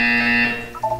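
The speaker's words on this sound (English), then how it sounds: "When you hear the buzzer, look down at the floor" A short electronic buzzer from the video game Portal 2, a loud steady tone lasting about half a second before fading, followed by a brief higher chirp.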